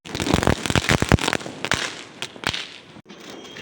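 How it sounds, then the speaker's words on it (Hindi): Diwali rocket fireworks launching and bursting, with a rapid run of loud, sharp cracks and bangs in the first second and a half, then several scattered pops that die away into quiet. "ये रॉकेट भी कब जला कब कहाँ चला गया पता नहीं चला।"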